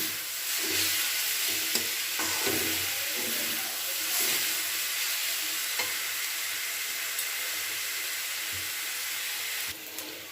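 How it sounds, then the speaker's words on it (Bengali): Mustard greens and eggplant fry and get stirred in a pan, giving a steady close sizzling hiss throughout with soft scraping and clacking stir strokes scattered across it, and no voices. "বেগুনটা শাকের সঙ্গে খুব ভালো করে মিশিয়ে নিচ্ছি"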